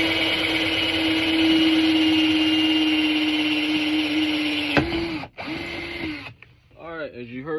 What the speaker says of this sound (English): it drilled right through this here metal was steel